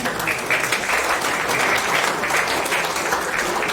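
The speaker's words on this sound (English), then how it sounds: "And a round of applause for Brad as well, ladies and gentlemen." A crowd at a boxing hall of fame event applauds an interviewee, a steady, full round of clapping from many hands that holds evenly for several seconds without talk.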